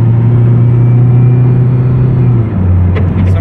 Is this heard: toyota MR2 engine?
yes